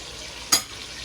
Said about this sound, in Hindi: अब हम इसको अच्छी तरह भून लेंगे मसाले को